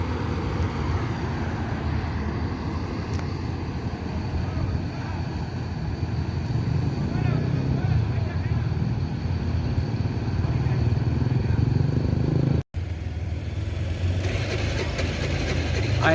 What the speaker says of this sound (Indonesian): Berarti ini bus yang ketiga